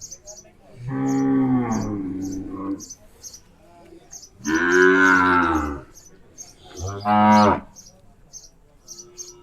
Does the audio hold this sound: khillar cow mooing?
yes